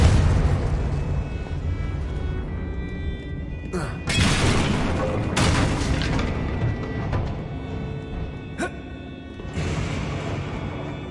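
A Confringo blasting spell in a Harry Potter video game, several booming bursts with rumbling tails spaced a second or two apart, loud and close over a busy game soundscape, with a voice calling out spells.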